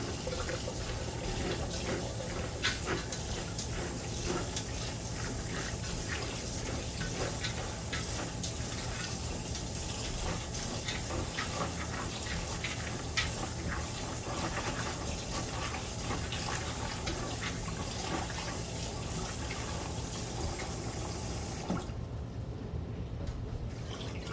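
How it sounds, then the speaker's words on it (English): Running tap water pours steadily over almonds being rinsed for homemade almond milk, a continuous close splashing rush that holds throughout and drops away sharply at the very end. "So we're gonna rinse these again."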